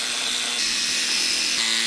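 A loud, continuous high-pitched power tool cutting metal for a car handbrake, steady and close with a harsh hiss throughout.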